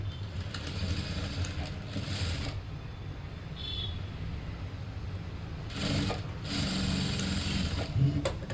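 A sewing machine stitches a blouse in close, loud bursts of rapid mechanical whirring, with a long run at the start, a quieter stretch with brief pauses, and another run near the end. No one speaks.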